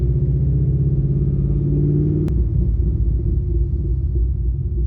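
Chevrolet Corvette C5 anniversary edition fitted with a Vararam VR-B2 intake, a deep, loud, steady engine rumble heard up close, with one sharp click partway through.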